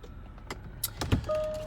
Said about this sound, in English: you got the folding mirrors. Power folding mirrors.